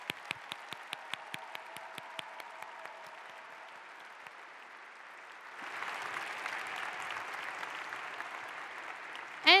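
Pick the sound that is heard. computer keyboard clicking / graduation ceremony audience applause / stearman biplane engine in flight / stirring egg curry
graduation ceremony audience applause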